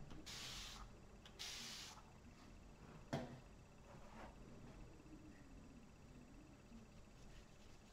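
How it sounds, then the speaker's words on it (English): Spray bottle misting an acrylic paint palette: two short bursts of hissing spray close by near the start, then quiet studio background with a small click. "And time to spray the palette."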